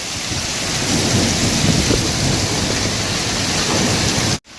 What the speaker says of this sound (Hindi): बहुत बारिश आई है